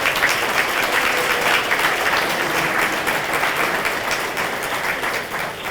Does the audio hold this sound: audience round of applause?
yes